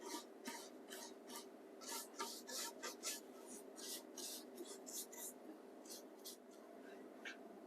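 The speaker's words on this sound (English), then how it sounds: "We're going to do a little more sanding because you can still see the dark." Hand sanding rasps across the surface of a 1949 Admiral 7-inch TV in quick irregular strokes, close and fairly loud, with a steady low hum underneath.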